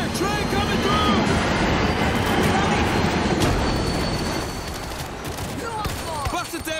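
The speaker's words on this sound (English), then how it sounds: "Train coming through." A train rumbles past in the zombie shooter World War Z, a loud, dense roar filling the scene throughout, with gunfire-like bursts and game noise mixed in and a voice faintly present.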